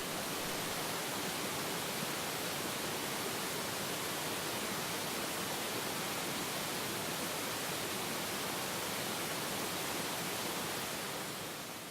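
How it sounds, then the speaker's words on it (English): A constant rushing roar of Crabtree Falls pouring over a cliff fills the air, steady and unbroken, heard from nearby. "listen to the waterfall as it pours"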